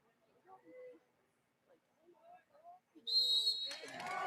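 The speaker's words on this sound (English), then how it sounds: "Race will start with whistle." A sharp, shrill whistle sounds to start an elite short-track cross-country mountain bike race at Elmwood Park in Roanoke, Virginia, with quiet announcer talk before it and crowd noise rising after.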